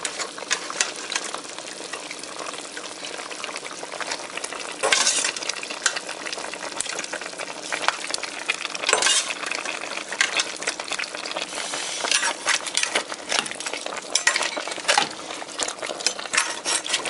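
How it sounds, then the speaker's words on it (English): Vegetables being stirred into a pot of Haitian bouillon, a steady close scraping and sloshing with bubbling liquid throughout and a few louder clatters of the spoon, no talking. "At this point, I'm going to add the vegetables in there."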